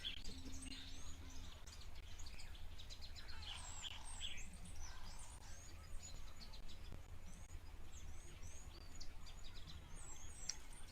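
Several birds chirp and call repeatedly at an African waterhole, faint and fairly distant, over a steady outdoor background hiss.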